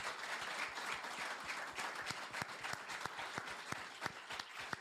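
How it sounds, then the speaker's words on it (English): A mental health panel discussion audience breaks into sustained applause for the speakers, a dense wash of many hands with sharper individual claps standing out, fairly distant and even in level. "So I would like a massive round of applause,"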